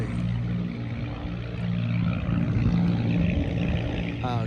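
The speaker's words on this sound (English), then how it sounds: "Pardon the noise, I'm at an airport right now." Airport ambience with aircraft engines: a steady, loud low rumble and broad roar of turbine and propeller noise, continuous throughout without distinct breaks.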